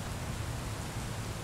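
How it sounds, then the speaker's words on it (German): Steady rain falls in the driving game Bus Simulator 18, a dense, even hiss of rainfall with no other sounds, heard only briefly. "Oh, es regnet."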